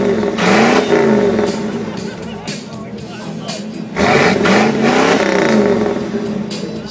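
A 1977 Pontiac Trans Am V8 revs loudly nearby in two rising surges, its deep engine roar filling the recording, with people talking over it.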